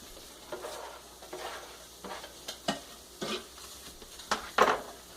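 Onions going into a pan while making a Spam sandwich, a soft sizzle beneath a few sharp scrapes and clanks of a utensil against the pan, close but fairly quiet with no speech.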